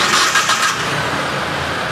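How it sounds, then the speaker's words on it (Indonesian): A 2018 fuel-injected car engine cranks and starts in neutral, a brief loud burst of starter and catch in the first moment, then settling into a steady, smooth idle hum close by. "Suara mesinnya masih halus, starternya jreng."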